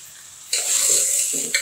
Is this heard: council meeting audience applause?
no